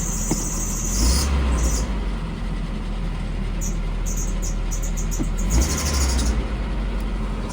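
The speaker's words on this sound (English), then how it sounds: "My belt is squeaking a little bit." A car idles with a low engine rumble while a high-pitched belt squeal rises twice, each lasting about a second, alongside faint chirps.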